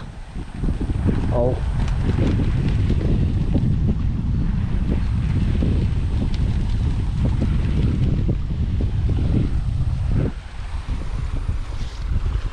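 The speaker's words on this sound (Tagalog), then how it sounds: "Lakas po ng hangin na pa." Strong wind buffets the microphone in a continuous roar, with rushing water and a boat-like rumble beneath, easing briefly near the end.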